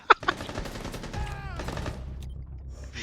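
Gunfire in a shooter video game: a sharp opening blast and a quick follow-up shot, then a rumbling tail with electronic tones, a squealing sweep and a late crack.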